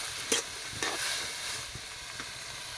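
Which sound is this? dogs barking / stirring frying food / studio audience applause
stirring frying food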